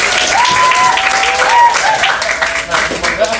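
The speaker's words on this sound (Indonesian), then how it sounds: "Kita berikan tepuk tangan sekali." Audience applauding after a student presentation on sexual violence, a steady wash of clapping from a room of people, fairly loud and close, with some voices mixed in.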